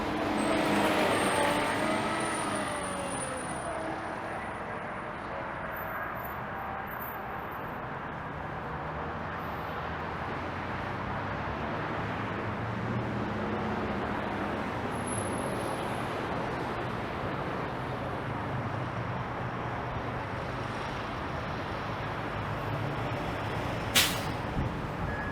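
A Highway 407 GO bus idles by a suburban Toronto station entrance amid steady roadway noise, with a brief sharp air-brake hiss near the end; continuous low engine rumble throughout, no talk.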